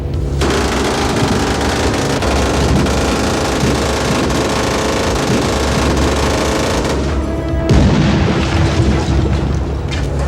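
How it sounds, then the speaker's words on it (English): Pyrotechnic blasts and gunfire bursts from a staged police shootout on the Terminator 2 film set, a dense, loud, continuous barrage of booms and rapid shots that briefly dips before surging again. "a team of expert pyrotechnicians staged one of the largest police shootouts in cinematic history"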